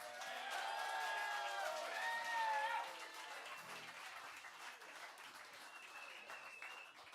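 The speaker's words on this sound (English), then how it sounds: "how about a huge round of applause for Shane Pendergast" Audience applause for a comedian at Rodney's Oyster House, a steady roomful of clapping with a few whistles and cheers, loudest at first and then easing to a lighter, sustained patter.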